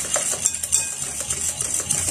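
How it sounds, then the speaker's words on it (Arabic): A manual hand whisk mixes basbousa ingredients with salt in a bowl, making light, quick, rhythmic metallic clicks and scrapes that stay soft and steady throughout. "فقط كنخدمو بالفوي هذا اليدوي"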